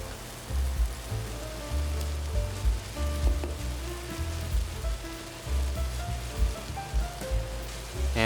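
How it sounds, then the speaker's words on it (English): Velveted shredded pork sizzles and crackles as it stir-fries in a hot pan. The sizzle is steady and close, with irregular pops and light ticks, and no talking over it. "We'll let this pork cook."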